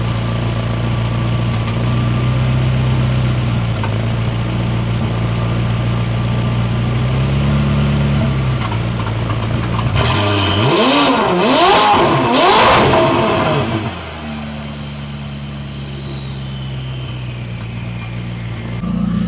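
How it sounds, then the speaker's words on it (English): A McLaren 570S, not yet fully warmed up, idles steadily, then gets one sharp rev that climbs and falls over a few seconds before it settles back to idle. Loud and close, with no talking. "if it's warm, I'll give it a little rev here"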